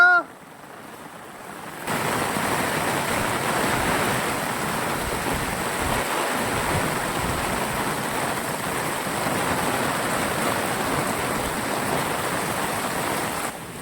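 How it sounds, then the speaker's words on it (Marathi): Heavy rain pours down on a ghat in a dense, constant hiss, starting abruptly after a brief quiet moment and continuing steadily throughout. "इतका पाऊस पडा मित्रांनो"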